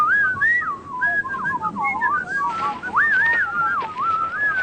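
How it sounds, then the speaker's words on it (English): A man whistles a wandering melody alone, the tone sliding up and down in clear continuous phrases, fairly close and steady in volume. "Is he whistling an Elliot Carter tune?"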